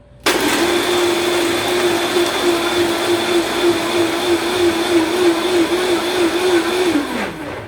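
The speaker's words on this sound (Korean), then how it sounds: "블렌더를 닫고 약 8에서 10초간 블렌더를 작동시킵니다" Blender running continuously for about seven seconds, mixing a pineapple cocktail with grenadine syrup and a scoop of crushed ice, a loud steady motor whine that starts abruptly and winds down at the end, with no talking.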